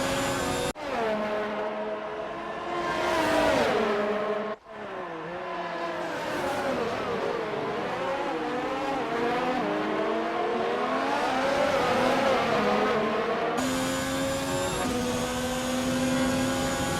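Formula 1 race car engines in the video game F1 2019, high-pitched whining revs that climb and fall through gear changes, with abrupt cuts and a brief lull, loud and continuous.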